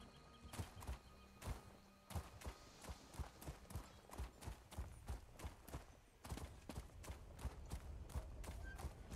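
A Guar mount's footsteps in Elder Scrolls Online thud in a steady, clip-clop-like walking rhythm, faint and regular, continuing for several seconds without talk.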